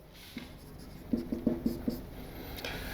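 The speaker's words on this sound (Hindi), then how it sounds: "ये लिखने के बाद और लिखता हूँ" Writing on a board during a chemistry lesson, a short cluster of five or six squeaky strokes in the middle, faint and close against a steady background hiss, with no talking.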